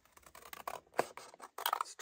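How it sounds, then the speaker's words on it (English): Scissors snip through thick journal paper for a handmade traveler's notebook, a close series of crisp crunching cuts and scraping slides, with two sharper snips standing out. "I don't know if these scissors are gonna cut it."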